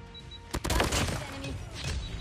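A quick burst of Kilo assault rifle fire in Call of Duty, several sharp shots clustered together, followed by a rattling, echoing tail under steady game ambience.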